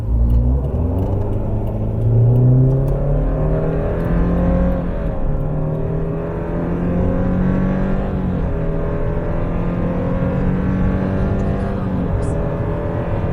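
A Subaru running on LPG accelerates hard with the pedal floored, its engine droning loud and steady with rising harmonic sweeps as it pulls through the gears from inside the cabin.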